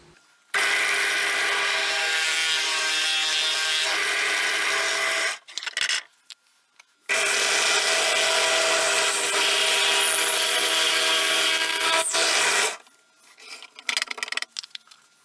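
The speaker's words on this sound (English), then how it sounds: "I'm going to drill the hole for the bolt through both together" A power drill bores a bolt hole through a wooden sanding block, running in two long steady bursts of whirring, grinding noise with a short quiet pause between them, close and loud.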